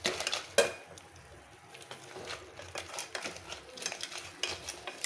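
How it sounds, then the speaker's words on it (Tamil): Crab soup being stirred in a cooking pot over a high flame, with a spoon clinking and scraping against the metal in irregular bursts, close up and moderately loud, no one talking. "நல்லா மிக்ஸ் பண்ணிக்கலாம்."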